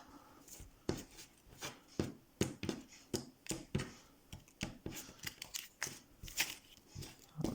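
Game cards for the Frosthaven board game are shuffled one-handed, making a rapid series of crisp riffling snaps and clicks in an irregular rhythm, close up and quiet, with no talk.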